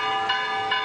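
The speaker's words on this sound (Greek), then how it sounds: "Άρχισαν να χτυπούν οι καμπάνες." Church bells ring with a sustained, bright metallic tone, two swelling strikes close together over a continuous loud ringing hum.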